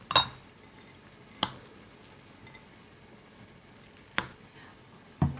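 Nuts and cranberries being mixed into sticky rice cake dough give four sharp, sparse clinks and squishes of a spoon against a bowl, separated by long quiet gaps.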